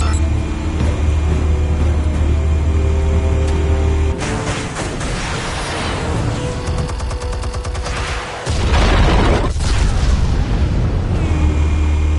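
Explosives detonating in the video game Batman: The Telltale Series, loud booming blasts and rolling rumble with rapid crackling bursts like gunfire, layered over an ongoing low drone of game score.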